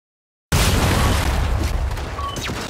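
A frag grenade blast in Gears 5, a sudden loud boom erupting from silence into a long, roaring rumble that slowly decays with debris crackle.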